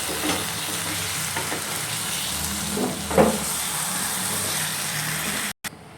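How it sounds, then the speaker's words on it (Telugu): Chicken curry with chicken masala and salt fries in a pan, giving a continuous close sizzle with a few stirring scrapes, alone with no talk, then cutting off abruptly near the end. "బాగా మిక్స్ చేసి కాసేపు ఫ్రై అవ్వడానికి వదిలేసాను."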